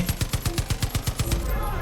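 Rapid bursts of machine gun fire from the video game Far Cry 5, about a dozen evenly spaced loud shots rattling off in quick rhythm before stopping.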